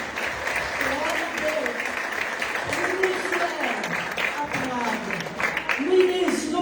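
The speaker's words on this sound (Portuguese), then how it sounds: "aplaudir o Senhor" Church congregation at a communion service applauds, dense continuous clapping mixed with voices and cries of praise, loud and sustained throughout.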